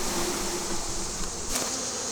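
Honeybees being moved into a hive give off a continuous close buzzing hum, steady throughout the short stretch without any voices.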